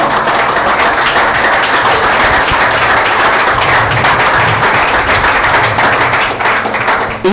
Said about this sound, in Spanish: dan un fuerte aplauso al Señor por eso